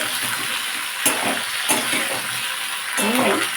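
Mixed vegetables for Bengali shukto, with peas and stalks, fry and sizzle steadily in a pan while being stirred, with soft scraping bursts at intervals and no talking.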